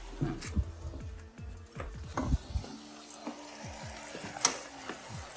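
Browned ground meat sizzles in a pan for a low-carb stir fry as garlic and ginger are added, with a steady soft frying hiss and scattered clinks and scrapes from a utensil against the pan.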